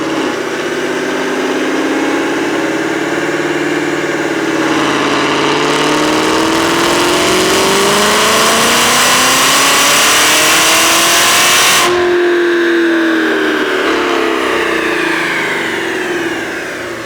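A 2019 Chevrolet Camaro ZL1 V8 roars through a full dyno pull, the loud, close engine note climbing steadily in pitch before cutting off sharply and falling back toward idle.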